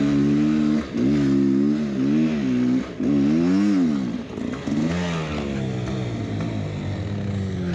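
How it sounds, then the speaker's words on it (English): A dirt bike engine revs and climbs through the gears while riding on sand dunes, loud and close, the pitch rising and falling in repeated surges before settling into a steadier drone. "riding my dirt bike"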